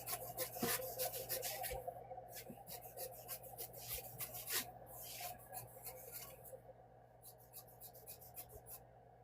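Quilt fabric is trimmed with quick, soft, repeated cutting and rubbing strokes in bursts, close and faint against a quiet room hum.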